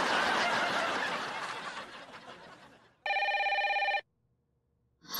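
Mobile phone ringing indoors with a short, bright electronic ring of about a second, coming right after a burst of laughter and noisy chatter, then silence.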